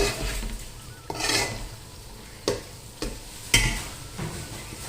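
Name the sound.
stirring mushrooms with masala for mushroom pulao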